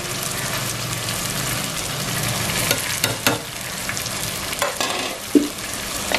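Spiced masala with tomatoes, turmeric and red chilli powder fries for a long beans dish, a dense, loud sizzle close up, broken by several scraping stirs of a spoon that grow more frequent toward the end.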